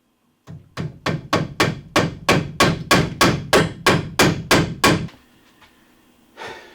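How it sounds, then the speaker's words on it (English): A roofing nail hammered at a wilderness cabin: about fourteen loud, evenly spaced hammer blows in a steady rhythm, close by, then quiet with one faint knock at the end. "Using a roofing nail."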